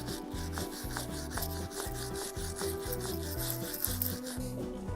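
A motorcycle fork being rubbed down with 240 grit sandpaper, a close, steady back-and-forth rasping in a quick regular rhythm, no voices.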